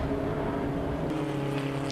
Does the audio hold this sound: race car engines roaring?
yes